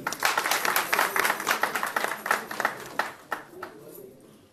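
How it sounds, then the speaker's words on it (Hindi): Applause from the audience at the grand launch ceremony of a Bhojpuri film, welcoming a comedian; many hands clapping in a lively, uneven burst that thins out and fades toward the end. "राजकुमार भैया के लिए एक जोरदार ताली"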